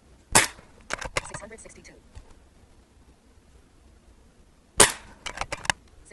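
A Rainson Edge X .22 calibre PCP air rifle fires two sharp, close shots several seconds apart, each followed by quick mechanical clicks and rattles, with a voice speaking briefly between them.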